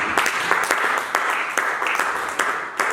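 Church congregation applauding and acclaiming Jesus: brisk, dense clapping from many hands, steady and close, continuing for a few seconds with no speech over it.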